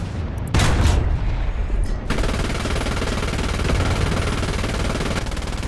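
Sustained automatic machine gun fire from a German Panzer IV/70 tank destroyer in War Thunder realistic battles, a dense continuous rattle that opens with a loud burst and runs steadily to the end, close and with no speech.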